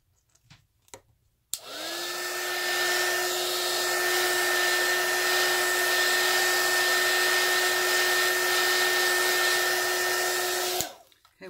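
An embossing heat gun blows steadily over wet alcohol ink, a loud continuous whirring hiss with a fixed motor whine, switching on about a second and a half in and running unbroken for roughly nine seconds before cutting off.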